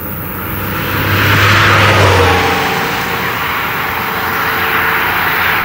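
A 1996 Porsche 993 Turbo with 408 hp drives on a country road, a broad engine drone with a rumbling swell early on, then a steady rushing cabin roar.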